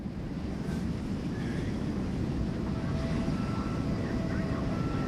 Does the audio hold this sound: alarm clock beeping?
no